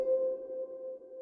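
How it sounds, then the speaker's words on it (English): Electric piano one-shot sample, a single soft sustained tone that sounds once and rings steadily at a low, even volume before it fades away. "This is just the electric piano sound. It sounds like this."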